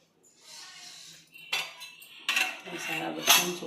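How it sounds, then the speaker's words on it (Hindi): Metal utensils and steel dishes clink and clatter as they are stacked onto a drying stand in a village home: several bursts of sharp ringing clanks, close and loud, with no talking. "सारा बर्तन सूख रहा है, देखो ये सारा लगाऊंगी स्टैंड पर।"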